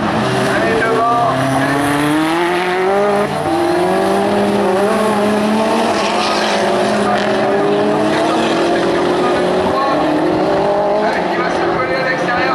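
Rallycross Supercars race in a qualifying heat at Lohéac, a white Peugeot 205 Turbo 16 tucked close behind an Audi; loud, continuous multi-engine roar with shifting revs, over which a commentator talks throughout.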